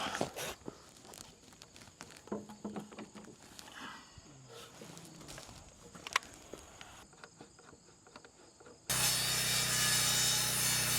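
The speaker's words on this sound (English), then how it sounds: "and then I'll cut the post to match." A saw cuts through a wooden post while framing deck stairs outdoors, starting with scattered faint knocks and scrapes, then ending in a loud, steady, close rasp of cutting.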